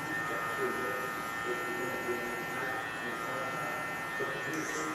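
Electric hair clippers buzzing steadily while cutting a mid taper fade, a continuous close motor hum running throughout under a voice talking.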